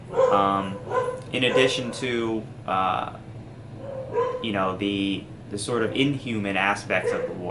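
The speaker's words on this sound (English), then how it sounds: "I'm sorry about my dogs barking." Several pet dogs bark repeatedly in the background at a worker cutting grass outside, the barks partly masked by someone talking steadily in the foreground.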